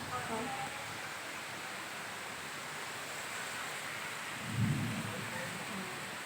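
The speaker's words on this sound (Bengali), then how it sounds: "মোটামুটি ভালোই ঝড় হচ্ছে বৃষ্টি হয়নি এখন" Storm wind blows before the rain in a steady, broad rushing roar, with a low rumbling gust swelling briefly toward the end.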